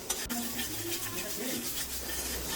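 Spiced mango curry being stirred and mixed in a pan, a soft scraping and rubbing with faint sizzling underneath, quiet and steady throughout.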